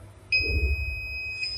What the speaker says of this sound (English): the piezo buzzer is making sound